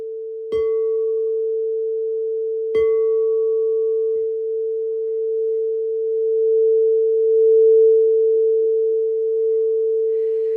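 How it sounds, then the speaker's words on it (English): A singing bowl is struck twice, and each strike leaves a pure, steady ringing tone that hums on and on with a gentle wavering swell. "Lauren loves the singing bowl. Isn't it beautiful?"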